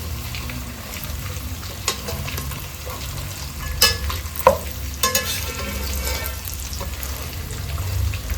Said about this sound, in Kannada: ಮಿಕ್ಸ್ ಮಾಡ್ತಾ ಫ್ರೈ ಮಾಡಿಕೊಳ್ಬೇಕು.